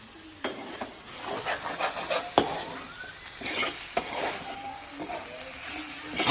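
Food cooking in oil in a home kitchen pan, a continuous sizzle with scraping stirring strokes and a few sharp clinks of a utensil against the pan.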